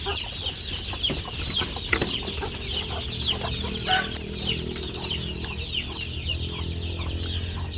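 Chickens in a farmyard pen cluck steadily and close by, with overlapping bird calls layered over a low background hum and no talking.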